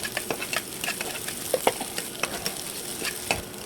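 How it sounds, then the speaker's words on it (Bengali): Eggs frying lightly in oil in a pan for a noodle recipe, a steady close sizzle with irregular soft ticks and stirring scrapes throughout, no voices. "ডিমগুলো একটু হালকা ভেজে নেব।"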